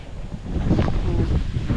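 Wind buffets the microphone in a steady low rumble that swells slightly midway, with no voices.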